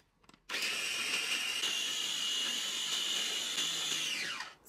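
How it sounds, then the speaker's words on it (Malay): A food processor grinds coarsely sliced onions dry, a loud, steady, high-pitched motor whir that starts abruptly and runs for several seconds before winding down. "Bawang yang dihiris kasar tadi, saya akan kisarkan dengan menggunakan pengisar kering."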